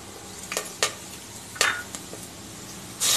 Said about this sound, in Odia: ଘିଅ ଗରମ ହେଲେ ଗୋଟା ମସଲା ଦେଇଦେବା।